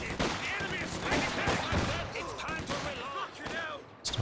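Dense gunfire and sniper shots in the World War II strategy game Company of Heroes 2, a continuous busy battle mix of cracks and bursts, with a commentator's voice running over it.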